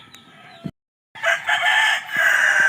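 Gamecock rooster, a winning fighting cock, crowing loudly and close by in a long drawn-out call after a short cluck and a brief silence.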